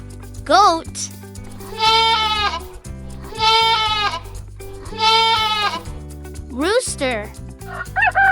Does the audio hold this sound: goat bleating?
yes